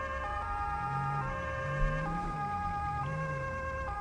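A German police Martinshorn siren in the game GTA V cycles through its two alternating tones in a steady repeating pattern, clear and continuous with no talking over it.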